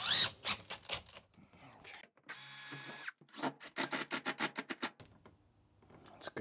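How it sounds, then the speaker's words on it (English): A power drill pre-drills a corner hole for galvanized screws while installing a tub and shower surround, whirring in one steady burst of about a second, with mechanical clattering and a person talking before and after. "Pre-drill our corner."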